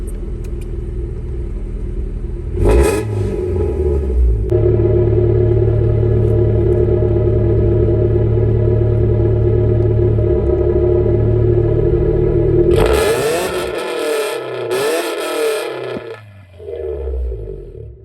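A 1991 Honda Civic hatchback engine fires up and runs at a steady, loud idle for several seconds, then revs up hard in a few sharp bursts before settling, with no talk over it.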